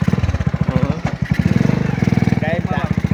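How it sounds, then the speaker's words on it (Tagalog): A motorcycle engine runs close by with a steady, fast putter that holds for the whole stretch while people talk over it. "May motor din. Motor."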